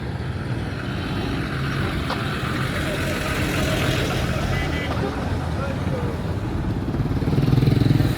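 Motorcycle engines drone through a busy street around Charahi Shaheed square in Kabul, Afghanistan, with traffic rumbling steadily and one growing louder near the end, while a voice talks over the noise.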